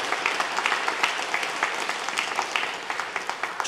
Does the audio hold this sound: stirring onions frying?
no